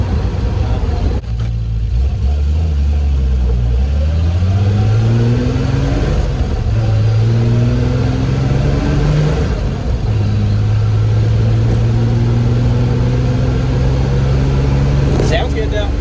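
An old car, back on the road after thirty years off it, runs on a test drive, its engine droning steadily and rising in pitch through several gear changes, slightly bogging between 2,000 and 3,000 rpm, with a person talking over it.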